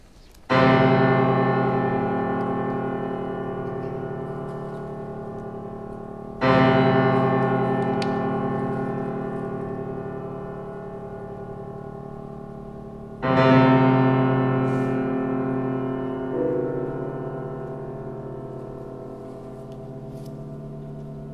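Piano playing the opening measures of Innisfail by Ryan Molloy in a lecture recital, three loud resonant bell-like chords struck at roughly six-second intervals, each ringing out and slowly decaying, with no talk.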